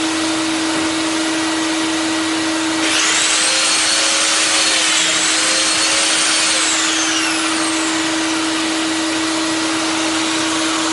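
A Mafell DD40P duo doweller bores dowel holes: a steady motor hum, then a louder rising whine as the bit cuts in and runs for several seconds before easing off.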